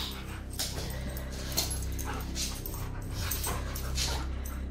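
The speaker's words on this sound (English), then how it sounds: "Are you going to bark at them?" Dogs whimper, pant and give short yips, moderately close, with a busy indoor background and no clear sustained barking.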